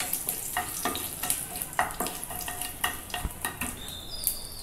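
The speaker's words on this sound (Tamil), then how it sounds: "பூண்டு நல்லா அந்த எண்ணெயிலே ஃப்ரை ஆகட்டும்." Garlic sizzles in hot oil with mustard seeds, cumin, dried chilli and curry leaves for a snake gourd koottu, a steady crackle broken by stirring scrapes against the pan.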